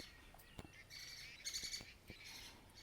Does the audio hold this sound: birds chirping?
yes